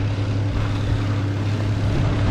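An Infiniti G37 engine idles steadily just after a jump start, a continuous low drone with a strong hum, close and even, with no speech.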